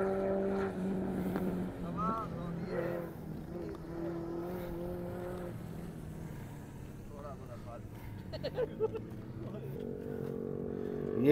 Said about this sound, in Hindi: ये देखें जी, वो गाड़ी आ रही है वापस।